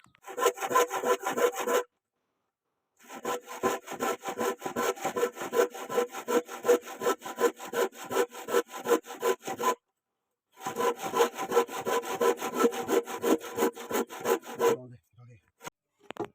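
Wood being sawn by hand outdoors, close and clear rapid back-and-forth rasping strokes in three long bursts separated by short pauses, with no talk.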